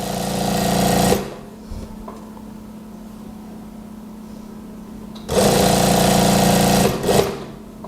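A sewing machine stitches a daster dress straight down toward the hem in two loud, steady runs of rapid mechanical whirring, separated by a long quiet pause.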